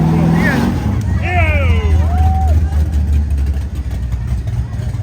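A car engine idles at a weekly car show, a steady low rumble under close conversation from people nearby.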